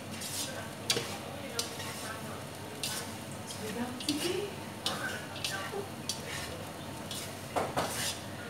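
Shrimp and Egyptian rice stirred in a pan with smoked paprika, giving scraping utensil strokes and light clinks against the cookware over a soft sizzle, with someone talking at moments.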